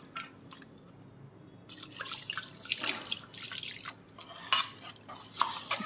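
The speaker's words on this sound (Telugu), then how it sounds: "ఇంకొంచెం వాటర్ పోసుకొని పిండుకొని వడకట్టుకుందామండి." Tamarind pulp is squeezed and strained with added water into a vessel, giving soft splashing, pouring and dripping sounds in bursts, quiet and close with no talk.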